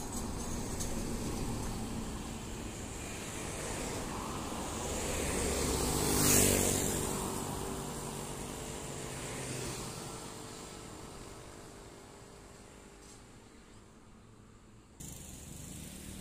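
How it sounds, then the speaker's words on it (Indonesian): A bus overtaking a truck on a winding uphill road roars past close by with a swelling engine and wind rush that peaks and then recedes into steady road noise. "bis persiapan overtake truk ya"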